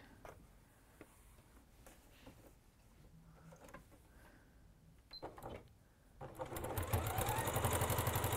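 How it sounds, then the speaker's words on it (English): Sewing machine stitching a tweed bag, starting up loud and steady near the end after quieter handling noises, running in a fast continuous whir. "Let's just sew this up first."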